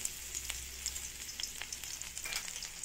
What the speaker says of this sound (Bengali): দেখো একটু সর্ষের তেল দিয়ে দিলাম, আর এই যে থেতো করা আছে রসুনটা দিয়ে দেবো।